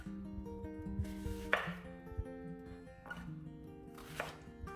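A knife slicing tomatoes for tabouli, three separate soft cutting strokes against a board, close but faint, with a low hum underneath and no talk.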